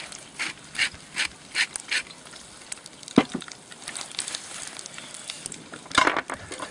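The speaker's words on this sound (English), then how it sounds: "A little grind of the peppermill" A pepper mill grinds in a kitchen while monkfish with quail and prawns is prepared, giving a series of short, close, gritty crunching bursts spaced about half a second apart, with a sharper clack midway.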